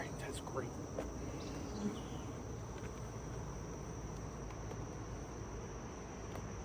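Honey bees swarm around an open hive during queen grafting, a steady, faint, diffuse buzzing hum that continues unbroken throughout.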